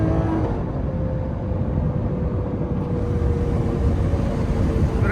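A Lamborghini Aventador SV with an aftermarket exhaust drones and roars steadily, a loud, continuous engine note heard from inside the car while driving.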